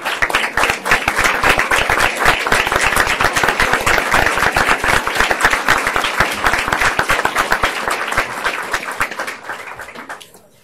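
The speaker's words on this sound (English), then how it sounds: "can we give them one more round of applause for the great work they do each and every day?" A roomful of people at a school board meeting applauds honored staff and their families, a loud, sustained burst of dense clapping lasting about ten seconds before tapering off and fading out.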